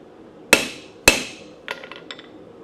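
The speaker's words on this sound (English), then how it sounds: "Now we're just going to use the cross peen part to kind of stretch the tip, fan it out in certain directions." Two loud, ringing blows of a blacksmith's cross peen hammer on a hot blade tip, close by, followed by several quicker, lighter taps that bounce on the anvil.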